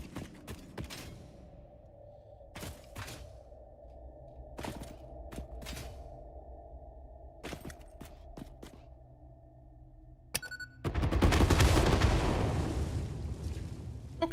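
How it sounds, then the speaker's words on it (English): Small explosions in the game Satisfactory: a quiet stretch of scattered sharp pops and clicks, then a sudden loud, dense burst of blasting and rumbling noise that fills the last few seconds. "they're all relatively small explosions"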